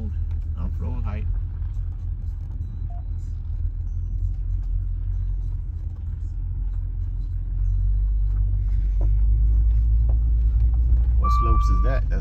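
A 2021 Maserati rolls off road with a steady low engine rumble and road noise close by, growing heavier toward the end, while people talk briefly.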